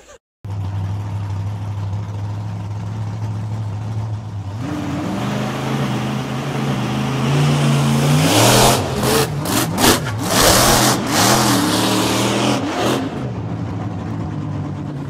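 The engine of the world's fastest tractor idles steadily, then revs hard in repeated loud surges and bursts, roaring close and dominating throughout.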